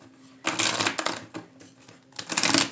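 Tarot cards being shuffled by hand, close-up bursts of riffling and sliding card noise in three short rushes separated by brief quiet gaps, with no talking.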